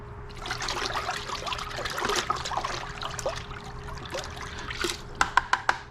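Owner's Pride Eco Wash pours into a bucket as a soft, close trickle and gurgle of liquid over a faint hum, with a few sharp clicks near the end.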